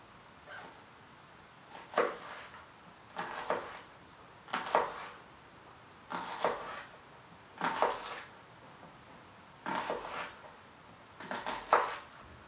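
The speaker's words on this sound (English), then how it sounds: "you're going to want to hold it and slice all the way" A kitchen knife slices vertically down through an onion toward the root, giving seven crisp cutting strokes spaced about a second apart, close and quiet, with no voices.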